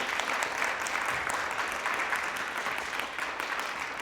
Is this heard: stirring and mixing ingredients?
no